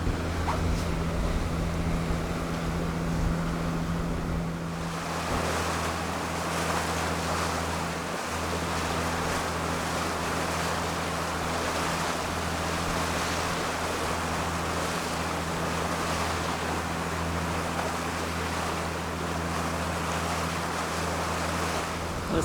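A boat engine hums low while water rushes and churns steadily, with wind buffeting the microphone throughout.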